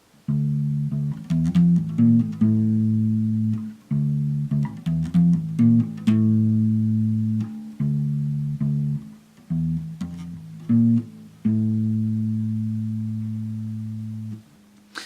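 A bass guitar plays a plucked low-register bass line note by note with sustained tones and short pauses, played alone and up close.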